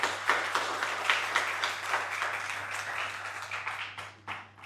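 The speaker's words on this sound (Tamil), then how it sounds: "கைத்தட்ட வேண்டாமா அவருக்கு?" An audience at a Gita lecture inauguration in Guduvanchery applauds for Swami Chinmayananda, a steady wash of many hands clapping that rises, holds for several seconds and tapers off, with no talking over it.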